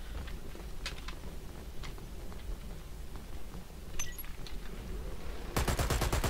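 Steady gunfire from the online shooter Dirty Bomb, with scattered shots through a constant game noise bed and a loud, rapid automatic burst near the end.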